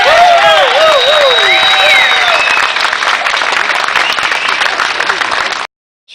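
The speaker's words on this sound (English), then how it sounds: "I thank you for the kind applause" Crowd at a political rally against ObamaCare in Columbia, South Carolina, a dense, loud and sustained wash of applause with cheering voices and whistles, fading out abruptly at the end.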